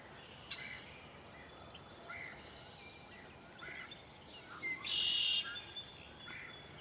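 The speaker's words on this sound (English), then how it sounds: "Man, a lot of birds out here." Scattered bird calls and chirps ring out at a moderate distance over quiet ambient noise at Spicer Lake, with a sharper, louder call rising briefly toward the end.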